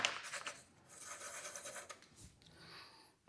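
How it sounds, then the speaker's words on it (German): Pencil shading a drawn football on paper, close soft rasping strokes in quick rhythmic scratches, quiet and alone. "Und schraffiere den Ball erstmal etwas hier."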